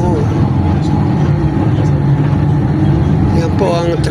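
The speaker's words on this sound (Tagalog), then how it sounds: "Yan po ang traffic dito." Dense road traffic in a heavy jam, with loud continuous engine idling and rumble from nearby cars, buses and trucks, a voice talking under the noise and a brief horn-like tone near the end.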